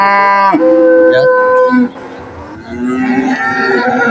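Cattle at a village livestock market in Purwantoro, Wonogiri, let out loud, close moos, one long drawn-out call followed by a second lower bellow.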